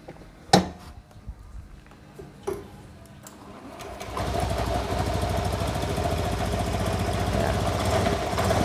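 A Honda Scoopy scooter engine starts after a few clicks and knocks, then settles into a steady, fairly quiet idle that carries on to the end.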